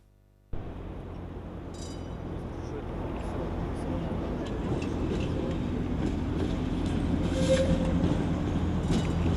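An Odesa tram, route 18, rolls along in a steady broadband rumble with a faint metallic clink of the wheels on the rails. The sound is continuous and close, grows slightly louder toward the end, and carries no speech.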